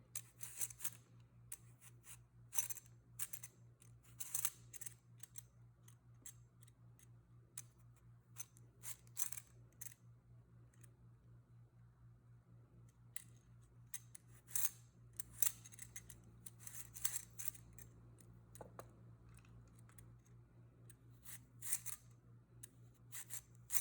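A knife slices fresh ginger into thin pieces on a cutting board, giving repeated crisp close-up taps and cuts at an irregular rhythm over a quiet background hum.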